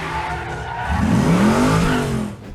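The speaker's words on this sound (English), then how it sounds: "That aggressive growl that makes the Nova sound like it's powered by the souls of the damned?" A Chevy Nova movie car growls with a rising, aggressive engine note while tires squeal and skid, loud and close, swelling in the middle and easing at the end.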